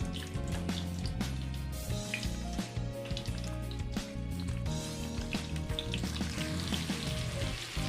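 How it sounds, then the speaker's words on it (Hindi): Stuffed tinda (apple gourd), filled with spice masala, set into hot oil in a pan, giving a loud, continuous sizzle and crackle with scattered pops and small clinks, with no talking. "तो अब ऑयल गर्म हो चुका है और इसमें हम रखेंगे टिंडे।"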